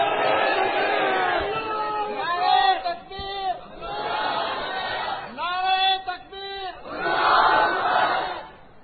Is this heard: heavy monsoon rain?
no